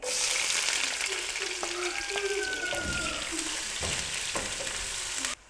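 Oil sizzles and crackles steadily as onions fry in a pan, with occasional stirring scrapes and clinks throughout.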